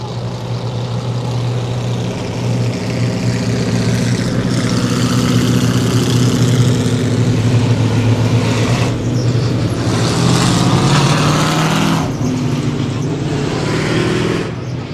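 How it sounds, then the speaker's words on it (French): Racing cars accelerate with dense, loud engine roar that rises in pitch. Several motors blend together continuously with no speech. "Les voitures accélèrent."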